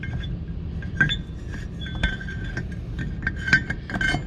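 A metal Wilwood brake rotor slides onto the wheel hub of a Mustang Bullitt, giving several light metallic clinks and taps spread over a few seconds, close up and without talk.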